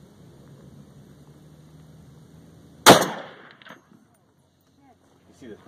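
A single .50 BMG round fired from a Barrett M82 rifle outdoors, one sudden loud blast that decays quickly into a brief rattling echo, followed by near silence and a faint noise at the end.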